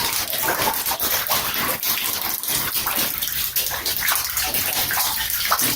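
Water gushes steadily from a burst pipe that has just thawed after cold weather in a property, a loud, continuous broadband rush with no pauses.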